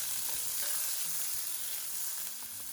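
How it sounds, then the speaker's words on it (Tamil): Chopped onion and green chili sizzling in hot oil with spices, a steady close frying crackle with occasional stirring scrapes, no voices. "கட் பண்ணி வச்சுருக்கிற ஒரு பெரிய வெங்காயமும் பச்சை மிளகாயும் சேர்த்துக்கிறோம்."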